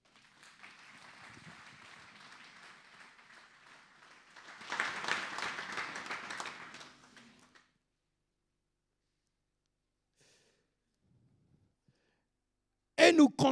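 A church congregation breaks into steady applause that swells into a louder, denser round before stopping abruptly. After that comes near silence, then a brief sharp noise at the end.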